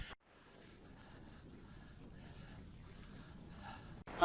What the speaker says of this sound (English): Trouble is it's too windy to pitch